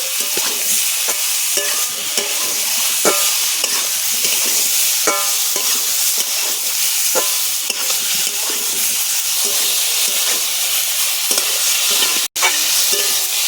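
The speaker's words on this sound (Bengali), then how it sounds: "ঝিঙে খুব ভালো করে কষাই করে নিয়েছি।" Salted ridge gourd sautéed in an oiled pan, a constant close sizzle broken by regular scrapes and knocks of a stirring utensil, with a sharp clack near the end.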